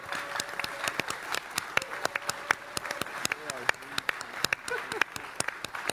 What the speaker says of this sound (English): let's have the voice of the customer and give you the applause of 3 or 5 or 7 or 10 or whatever